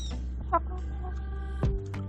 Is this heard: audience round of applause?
no